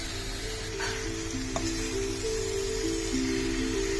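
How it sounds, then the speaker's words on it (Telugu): Spinach stirred in a pan with frying tomatoes and green chillies, a steady close sizzle with a faint scrape or two, continuous and alone. "తర్వాత అది మగ్గాక పాలకూర వేసి కలుపుతూ ఉండాలండి"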